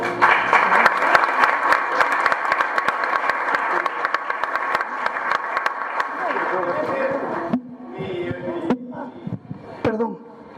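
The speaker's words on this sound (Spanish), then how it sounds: "Denles un aplauso por eso." A room full of listeners at Sophos in Guatemala breaks into dense, sustained applause, which thins out and gives way to someone speaking.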